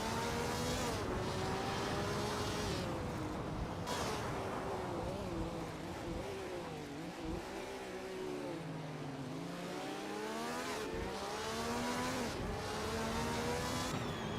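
Several racing cars in a racing video game roar and overtake one another, engines revving loudly and continuously with rising and falling pitch as they jockey for position.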